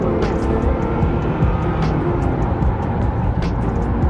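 A Honda Accord with a K-series engine revs hard nearby, giving a loud, sustained roar with rising engine tones, and voices are heard over the engine noise.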